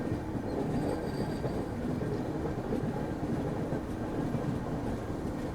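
The 12774 Shalimar SF Express rolls across rail points near Vijayawada with a steady rumble of wheels and carriages. Faint clicks and rattles run through the constant noise from inside the moving train.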